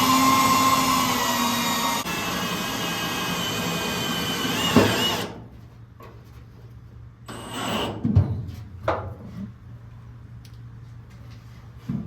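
Power drill driving screws into the trunk of a 1969 Firebird, a loud close whirring run for several seconds that cuts off, followed by a few quieter clunks and handling knocks.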